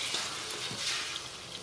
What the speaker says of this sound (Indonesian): Sekarang kita goreng telurnya